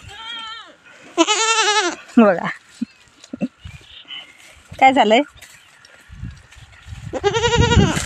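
A goat bleats loudly several times nearby, in long wavering calls, with a person speaking briefly between the cries.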